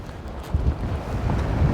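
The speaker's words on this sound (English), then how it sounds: "it's been bloody windy, really has" Gusty wind at Sands End on the Cleveland Way coast path buffets the microphone, a low roaring rumble that swells and dips in uneven bursts.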